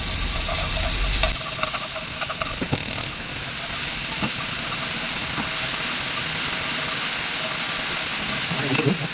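Seasoned, finely shredded beef stir-fries in a pan for chiljeolpan, giving a steady, close sizzling hiss that runs unbroken throughout, with faint crackles in the texture.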